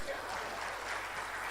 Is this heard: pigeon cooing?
no